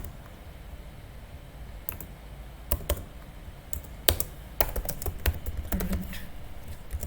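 Quiet, irregular keystrokes on a computer keyboard, sparse at first and then quickening into clusters of sharp clicks, close by with no talking.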